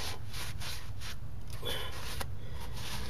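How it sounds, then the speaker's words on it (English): Engine valves from a 327 engine build being lapped into their seats by hand, a soft gritty rubbing that comes in repeated back-and-forth strokes over a steady low background hum, close and fairly quiet. "like I said, lap in these valves."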